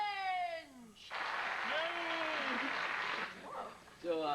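An audience at a high school quiz show breaks into loud, sustained applause and cheering for a few seconds, framed by a person talking just before it starts and again as it dies away.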